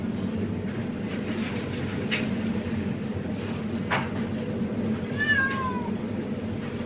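A cat meows a few times indoors while a storm rages, with steady low rumbling wind and rain noise underneath and a brief rising cry near the end.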